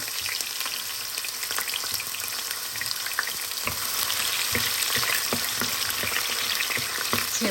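Food sizzling and crackling in heated oil in a cooking pot, a steady close frying hiss dotted with sharp pops and spits, no voices.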